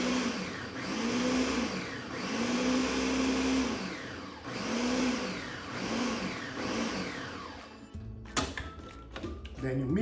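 A food processor whirs in repeated loud pulses, each rising and falling, as it blends a creamy almond milk mixture for a vegan mushroom and spinach quiche, followed by clattering as it stops.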